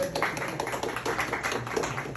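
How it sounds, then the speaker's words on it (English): Audience applause at a heritage center exhibit talk, a dense, steady patter of many hands clapping indoors, moderately loud throughout. "A very big round of applause for him."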